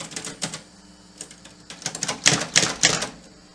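Brother Deluxe manual typewriter clacking as keys are struck, irregular sharp strikes at first, then a quicker cluster of louder, crisp keystrokes, close and without talk.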